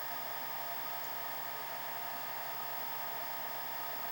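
Electric motor of an SCX10 RC crawler spinning its shaft during a gear swap, a constant high whine with an even buzz, close and unchanging throughout.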